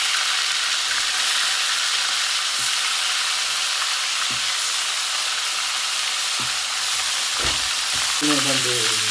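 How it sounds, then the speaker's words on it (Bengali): Rohu fish fries loudly in hot oil in a wok, a dense, steady sizzle with a few utensil taps and a brief tonal hum near the end. "আমি রুই মাছ ভেজে নেব কড়াই বসিয়ে দিছি দিয়ে দিলাম তেল"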